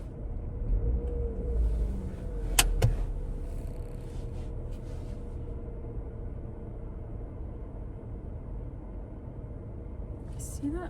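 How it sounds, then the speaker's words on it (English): A running car engine idling with a steady low rumble and vibration inside the cabin, continuous throughout, with a brief rattle or clack partway through. "I have to turn off the freaking car because it keeps vibrating"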